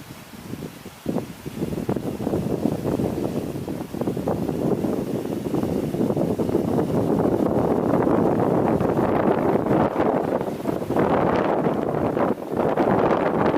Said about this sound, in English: There's some wind.